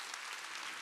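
A church congregation claps together during a Wednesday worship service, a dense wash of applause that stays even and fairly faint for under a second, with no voice above it.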